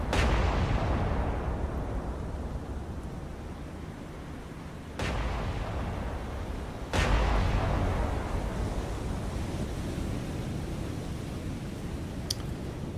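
Naval guns fire in a War on the Sea Pacific battle, with heavy booming blasts at the start and near 5 and 7 seconds over a constant dense rumble of continuous gunfire, loud and close throughout.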